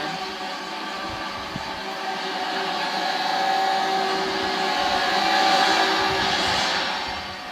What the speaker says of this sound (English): Where are these trains going?